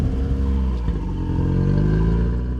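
Engine cranked back up, a loud running motor with rising harmonic tones as it revs, steady and close throughout with no voices.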